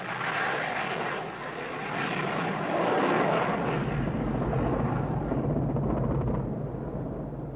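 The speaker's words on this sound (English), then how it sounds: "The Tornadoes continued to fly to attack a wide variety of targets." RAF Tornado military jet flying during wartime bombing sorties, heard as a broad, roaring engine rush that builds and holds loud with a low rumble, no speech over it.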